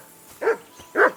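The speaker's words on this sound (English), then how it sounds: "I assume you can hear that damn dog of yours barking." A dog barks twice in the medieval game Kingdom Come: Deliverance 2, two close, fairly loud woofs about half a second apart with a quiet room tone between them.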